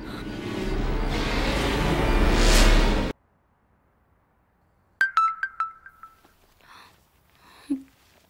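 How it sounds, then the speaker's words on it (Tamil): A WhatsApp message notification tone chimes on a phone, a short bright burst with a few quick ringing notes after a stretch of silence, followed by faint scattered sounds. "ராகுல் ராகுல் வாட்ஸ்அப்ல மெசேஜ் வந்திருக்கு பாரு"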